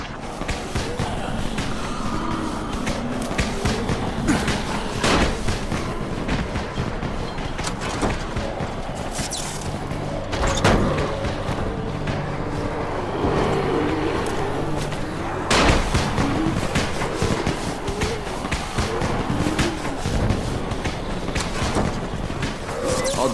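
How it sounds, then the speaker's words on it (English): Firecrackers thrown into a zombie crowd in the video game Dying Light, heard as a long run of sharp popping bangs and crackles, some louder booms, over busy game noise. "You still have some firecrackers, don't you? Just throw some into the crowd."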